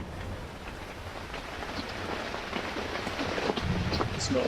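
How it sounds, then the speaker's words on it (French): A sudden rain shower patters steadily on surfaces outdoors, a dense hiss with scattered drops, growing slightly heavier toward the end. "Mais soudain, c'est l'averse."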